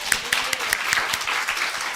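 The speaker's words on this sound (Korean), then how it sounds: "주님 영광의 박수." Church congregation clapping in applause to glorify God at a New Year blessing prayer meeting, a brief burst of scattered claps under faint voices.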